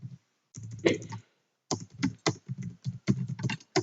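Someone types on a computer keyboard while writing HTML code, producing quick bursts of close, crisp keystrokes separated by short pauses.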